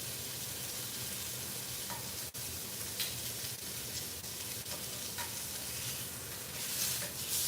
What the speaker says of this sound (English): Now I kind of seared one side.